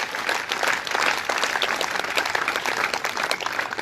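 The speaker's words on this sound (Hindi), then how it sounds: "सभी कवियों के लिए जोरदार ताली बजाने का निवेदन" An audience at a Holi gathering and poetry recital gives the poets a loud, dense round of applause, steady clapping throughout with no voices over it.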